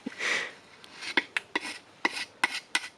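A screwdriver scrapes material off the metal body of a Mk1 Volkswagen Caddy in short, rasping strokes, about seven close scrapes in an uneven rhythm, with no talking.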